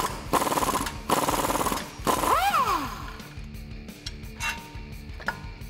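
Bottom shock bolt on a Jeep Wrangler JK being removed with an 18mm wrench and 18mm socket: bursts of ratcheting and metallic clicking in a garage, with a brief squeaky whine and scattered clinks.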